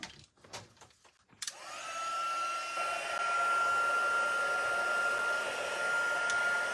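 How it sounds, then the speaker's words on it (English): A heat embossing tool starts up with a click and then runs as a steady, loud blowing whir with a thin whine, continuing without a break after a brief quiet stretch of handling noise. "I'm going to take my embossing tool now."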